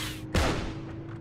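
A single gunshot in the Heroes & Generals video game: one sharp boom with a quick decaying tail over a low background hum, fairly close and alone.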